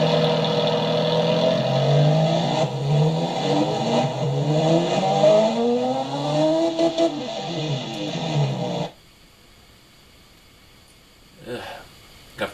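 Simulated car engine in the Automation game with race tubular headers, 1.75-inch dual exhaust and straight-through muffler, revving loudly up and down in repeated sweeps, then cutting out to near silence with one brief blip.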